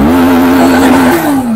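A 2023 CFMOTO 800MT adventure touring motorcycle engine revs loudly and close, a smooth, steady drone that climbs slightly in pitch, then eases back down over a second and a half.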